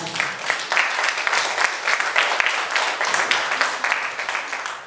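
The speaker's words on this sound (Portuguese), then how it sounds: "Aplauda o nome do Senhor Jesus." A church congregation applauds with steady, dense clapping that continues throughout, loud and sustained, with faint voices mixed in.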